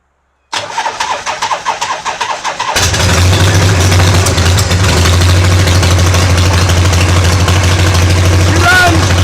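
Harley-Davidson Shovelhead motorcycle engine being electric-started after starter and carburetor repairs: a few seconds of rapid starter cranking, then the engine catches and settles into a loud, steady, rumbling idle that continues to the end.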